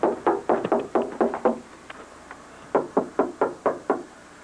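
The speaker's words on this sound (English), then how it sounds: "a knock at his door." Knocking at a house door early in the morning, two bursts of six or seven firm, evenly spaced raps separated by a short pause, close and clear with no voices.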